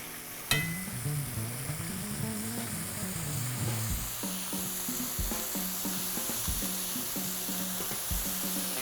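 Pork chops and vinegar peppers sizzle steadily in a hot pan, a dense continuous frying hiss with occasional clinks and stirring knocks, close and fairly loud with no talking.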